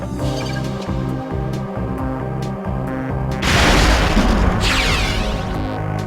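A proximity mine in Perfect Dark's firing range detonates as a deep, loud boom with a rumbling tail. It bursts in over a steady looping music bed, followed by a second, softer blast.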